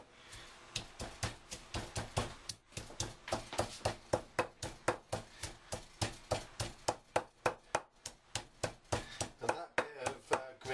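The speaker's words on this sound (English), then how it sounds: "I'm going to crush this lot up" Ingredients for grilled Thai chicken, including green chilli, pounded with a pestle and mortar: a steady rhythm of dozens of close, sharp thuds, alone with no talk.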